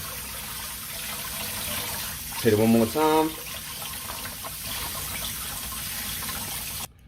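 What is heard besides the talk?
cold water running from tap while washing chicken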